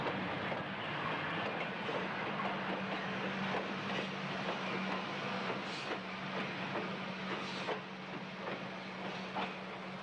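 Electric multiple-unit train of long ten-car sets, every car powered with its own pantograph, rolls past at steady volume, a continuous broad rumble and hum with faint rhythmic wheel clicks and no talking.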